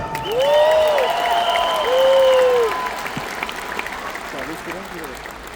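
A large crowd at an Edmonton speaking event claps and cheers, steady dense applause with a few rising whoops and a voice riding over the top before the clapping thins out.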